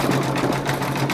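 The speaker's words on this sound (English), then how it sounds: "starting the satin stitch" An embroidery machine sews a satin stitch around applique fabric held in a hoop, producing a fast, steady mechanical whirring hum with rapid needle pulses throughout, close and alone.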